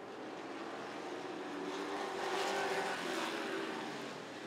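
Sportsman race cars roar around Rockford Speedway during the Hugh Deery Classic, a dense, continuous engine drone swelling slightly as the pack passes at middle distance.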